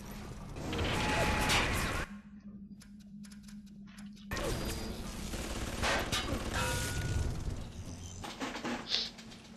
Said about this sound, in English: Oh yeah, I completely forgot about the turrets.